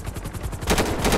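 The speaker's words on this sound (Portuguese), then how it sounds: "tô dando tiro ali na moita" Gunfire in the video game GTA 5 roleplay during a combat mission in Colombia: a loud, rapid string of shots cracking in steady succession, growing denser and heavier toward the end, with no talk.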